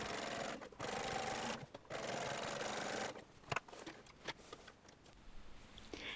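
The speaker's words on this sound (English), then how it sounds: "Double top stitch the pocket opening" A sewing machine double top stitching a pocket opening on a shirtwaister dress, running in several short close bursts separated by pauses, with soft handling clicks in between.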